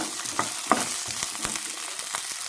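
Crushed ginger and garlic sautéing in a pan for a mutton gravy, a dense, continuous close sizzle with occasional stirring scrapes and clicks throughout.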